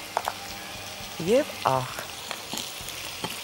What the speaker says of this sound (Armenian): կենթանական յուղով տապակել, այսինքն կարաքով, թող այս ամենը տապակվի